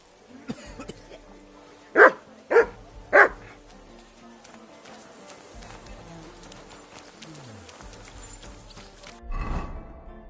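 Three sharp, loud dog barks from a dog in the video game Kingdom Come Deliverance 2, evenly spaced within about a second, over a quiet ambient game soundscape with faint background movement.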